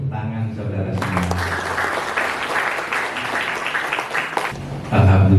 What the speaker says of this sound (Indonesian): Tepuk tangan saudara semua.